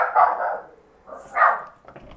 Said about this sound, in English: oh baby, you're barking.